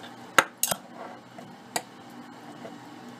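A utensil stirs hot dog sauce inside a jar, giving a few sharp clinks and taps against the glass over a short, otherwise quiet stretch.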